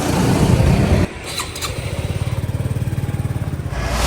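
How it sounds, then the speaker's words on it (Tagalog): A big bike motorcycle sits with a loud rumble, drops off briefly, then settles into a rapid, pulsing engine throb that builds toward the end as it pulls away. "Ito na, paalis na yung big bike natin."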